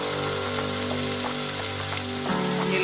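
Fried fish sizzles in a pan, a dense steady crackle with a low cooking hum, close and continuous, with a few scattered pops and no talking.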